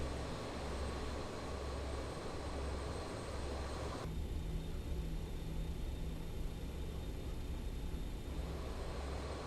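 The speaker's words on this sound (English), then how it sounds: "we'll just do a little bit of taxiing here and try and stay out of trouble" A BAe-146 airliner taxis in a flight simulator game, its engines giving a steady, loud jet whine and rumble throughout, with a shift in tone partway through.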